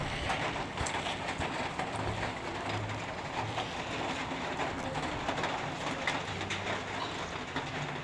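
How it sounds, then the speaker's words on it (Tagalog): Heavy, steady rain roars with a dense hiss, loud and continuous, with no voices. "ito na, maulan talaga"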